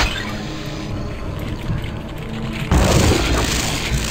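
Deep rumbling grind of a secret door sliding open in the video game Quake, a loud low boom and scraping roar that swells into a sudden louder burst partway through, with no talking.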